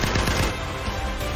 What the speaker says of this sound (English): Bouncing Betty walks over to the twitching body and unloads its ammo on the second head.